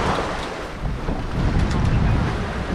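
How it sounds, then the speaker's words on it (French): Strong wind gusting over a sailboat at sea in a 15–17 knot breeze, a steady loud roar of buffeting air with wave wash underneath, swelling slightly toward the end. "On a un bon petit vent à 15-17 nœuds."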